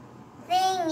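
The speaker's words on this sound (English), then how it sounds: "these cats are also singing together" A single sustained meow rises out of a quiet background and holds, bright and fairly close, with a slight wavering pitch.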